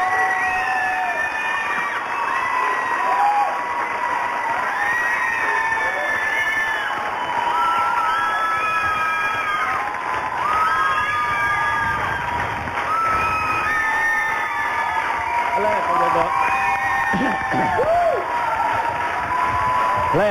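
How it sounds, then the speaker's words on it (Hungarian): Long, loud applause and cheering from a studio audience after a song, with whoops and excited shouts over continuous clapping that never lets up. "megvan a dálva taps itt a stúdióban"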